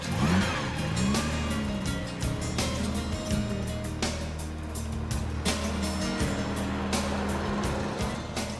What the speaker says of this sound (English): Turn the tiny key, press the period starter button, dab the big throttle